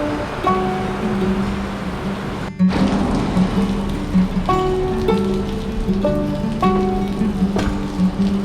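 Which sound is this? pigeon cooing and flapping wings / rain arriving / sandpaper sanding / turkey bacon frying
rain arriving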